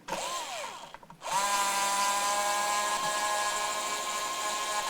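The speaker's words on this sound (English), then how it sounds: "Now we're going to try and get out these rusted screws." A power drill whirs loudly and steadily while backing rusted, bent screws out of a Sun Mustang guitar, a Fender-licensed Strat copy from India; a short burst at the start, a brief pause, then one long continuous run.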